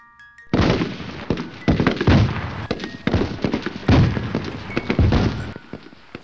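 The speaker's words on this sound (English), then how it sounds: "The firefight is still going on and not much has changed in a week." A firefight sound effect of dense, rapid gunfire bursts and booming explosions starts abruptly and continues loud and continuous to the end.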